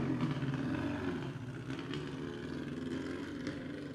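A historic racing car that first appeared in 1949 climbs the Rob Roy hill climb course, its engine note rumbling steadily and fairly loud throughout, with no talk over it.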